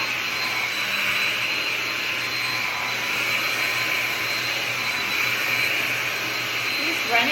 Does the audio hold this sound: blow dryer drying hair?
yes